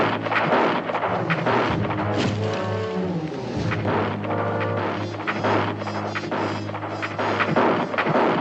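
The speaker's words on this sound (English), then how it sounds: "That's shooting awful good for Indians." Gunfire rings out in a 1969 TV western frontier scene, dense overlapping rifle shots and booming reports with a low hum underneath, loud and continuous, with no talk.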